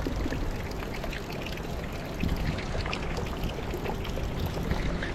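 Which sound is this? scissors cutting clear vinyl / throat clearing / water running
water running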